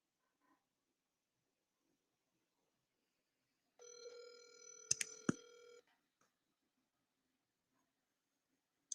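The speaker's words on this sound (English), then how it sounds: "Please answer the phone." An outgoing phone call rings back once, a single two-second electronic ring with a couple of sharp clicks, surrounded by near silence.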